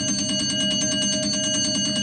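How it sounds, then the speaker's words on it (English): A timer alarm rings continuously with rapid, steady pulsing beeps at a loud, close level, filling the whole stretch without any talk. "Well, there goes our timer."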